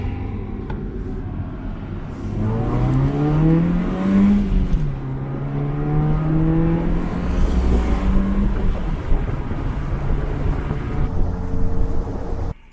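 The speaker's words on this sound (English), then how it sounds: "Let you guys hear this intake that I was telling you about. It's quiet until I get on it." Car engine intake roar under acceleration, loud and close from inside the cabin, rising in pitch through several gear pulls with brief drops at shifts, continuous throughout.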